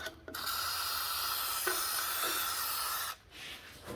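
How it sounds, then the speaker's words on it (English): Lubricating oil sprays from an aerosol can onto the pivot point of a 1970s Moto Mower snowthrower: one steady, close hiss of about three seconds that cuts off abruptly. "Spray some oil down the center of it, lubricate the pivot point a little bit."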